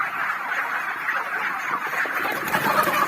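A flock of 44-day-old broiler chickens on a farm clucks and murmurs continuously, a dense, steady chatter of many birds close by with no talk.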